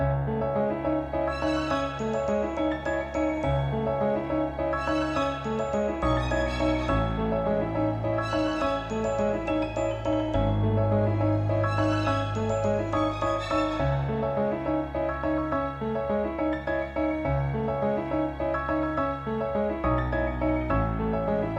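A looping instrumental rap beat melody in triplets, Atlanta style, of layered synth and piano tones over a steady low bass, playing continuously at an even level.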